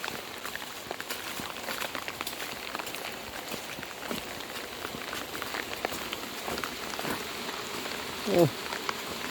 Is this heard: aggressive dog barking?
no